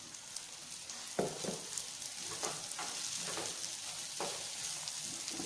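Sprouted moth beans sautéing in hot oil for a spicy usal, a steady soft sizzle with a few sharper scrapes and stirring knocks in the pan, close and continuous with no talking.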